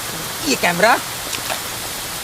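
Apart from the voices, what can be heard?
rain falling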